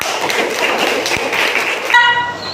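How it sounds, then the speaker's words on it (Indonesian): A class of students applauding a group during an Indonesian-language lesson: dense, continuous clapping for about two seconds that cuts off abruptly into a quieter tone. "Kita kasih dulu aplaus yang paling banyak untuk kelompok apa?"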